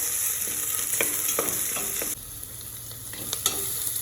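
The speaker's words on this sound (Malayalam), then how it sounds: "ഇതിലേക്ക് നമ്മൾ ഇഞ്ചിയും വെളുത്തുള്ളിയും പേസ്റ്റ് ആക്കിയത്, പച്ചമുളകും അരിഞ്ഞ് പേസ്റ്റ് ആക്കിയതാണ് ഇത് ഇടുന്നത്. നല്ലതായിട്ട് ഇളക്കി കൊടുക്കുക" Ginger-garlic paste and green chilli paste are stirred in a frying pan, making a steady close sizzle with regular scraping strokes of the spoon. There is no talking.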